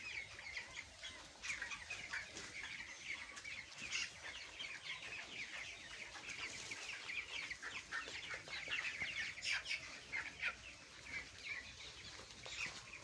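Broiler chickens on a poultry farm clucking and cheeping continuously as a dense, faint flock chorus, many birds overlapping at a steady distance with no talk.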